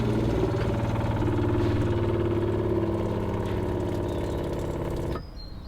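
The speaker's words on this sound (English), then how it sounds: "So I've just turned the pump on, and that's pressurised the pipes around to this valve here." A camper van's water pump runs while pressurising the pipes to the sink, a steady droning hum that continues evenly for about five seconds and then cuts off abruptly, leaving near silence.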